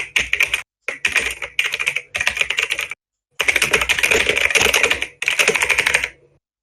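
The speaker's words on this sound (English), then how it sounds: "here's some keyboard noises" Computer keyboard typing, close and crisp, in quick rapid bursts of keystrokes separated by short pauses, with one longer gap midway before a sustained run of typing that trails off.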